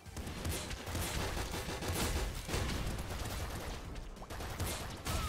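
Rapid gunfire in the Nuclear Throne video game, a dense continuous barrage of overlapping shots and bursts at steady loudness.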